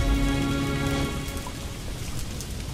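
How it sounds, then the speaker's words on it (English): Steady rain pours down during a thunderstorm as a tabletop role-playing ambience effect, a dense continuous hiss of drops with a low rumble underneath, loud and alone without voices. "rain is falling around and the thunderstorm"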